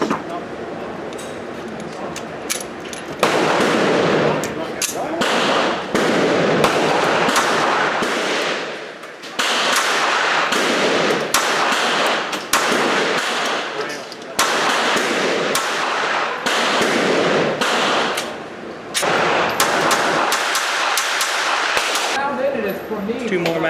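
A Ruger LCP II pistol fired at a range with steel-cased rounds, loud sharp reports in irregular strings and bursts, separated by brief pauses, with talking between shots.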